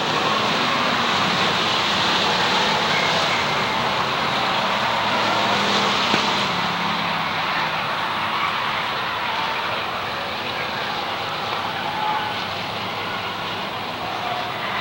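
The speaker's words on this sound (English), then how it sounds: "Green flag is out. They charge down the front straightaway." Pure stock race cars roar around the Waterford Speedbowl oval in a feature race, a dense, loud, continuous engine drone from a packed field that swells slightly and then eases as they pass.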